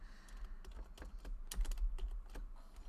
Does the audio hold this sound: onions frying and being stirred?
no